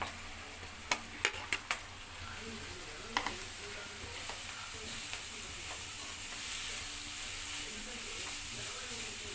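Grated carrot frying in a pan, a faint continuous sizzle with a few sharp scraping stirs of a utensil near the start, then steady hissing.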